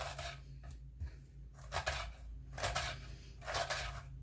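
A knife cuts a washed, halved fennel bulb into very thin slices, giving repeated crisp slicing strokes in an even rhythm over a low steady hum.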